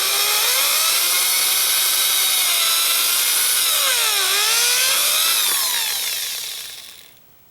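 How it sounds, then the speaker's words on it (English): Power drill boring into the edge of a door frame, a loud steady high whine with the pitch dipping and rising as it bites, then fading out at the end. "so that's why I'm going to drill this"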